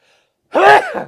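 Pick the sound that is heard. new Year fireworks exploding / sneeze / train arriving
sneeze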